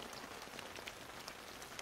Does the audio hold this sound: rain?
yes